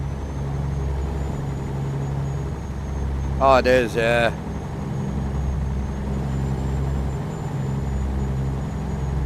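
Low steady truck engine drone heard from the cab in a truck-driving game, with a short burst of speech partway through.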